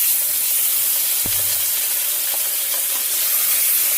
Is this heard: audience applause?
no